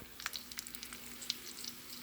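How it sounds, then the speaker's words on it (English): Onions fry in a hot pan while meatballs are being made, giving a soft, continuous sizzle scattered with faint crackles and pops, with no voices. "So I'm still hearing the sizzle"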